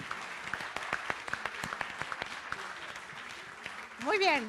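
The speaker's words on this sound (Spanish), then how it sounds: "Recibiendo con aplausos, muy bien al autor." Scattered, moderately quiet clapping from an audience welcoming an author at a book presentation, with individual claps standing out, then a voice rises near the end.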